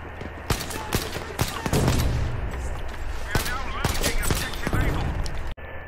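M3 Infrared semi-auto rifle shots in Battlefield V, a string of sharp single cracks at irregular spacing over battlefield din, with a voice talking in between and a sudden cut at the end.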